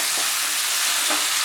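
Chopped onion and mushroom fry in a pan over medium heat, giving a steady, dense sizzle that fills the whole moment, close and loud, with faint soft stirring movements underneath.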